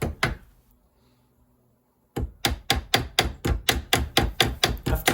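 Series Land Rover voltage stabiliser's metal case has its tabs tapped down with a hammer: a single knock, a pause, then a steady run of about ten sharp, evenly spaced metallic taps, close and loud with no talk.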